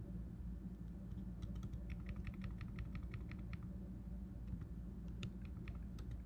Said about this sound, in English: I'm just using the arrow keys to get that into position